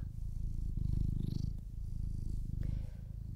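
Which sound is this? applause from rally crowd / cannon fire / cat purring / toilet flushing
cat purring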